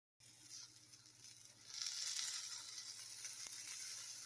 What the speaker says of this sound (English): And I'm going to add a little oil now.